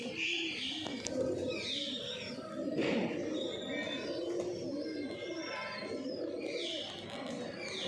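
Malwai pigeons offered for sale in Ludhiana, Punjab, cooing repeatedly in soft rolling phrases, near and steady, with faint chirps from other birds and light background noise.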